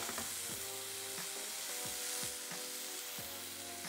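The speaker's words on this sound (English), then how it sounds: "Work a little bit the onion and the garlic in the pan." Onion and garlic sizzle in a hot pan as a wooden spoon stirs them, a constant bright crackle with four or five distinct scraping strokes spaced through it, close and fairly quiet, with no voices.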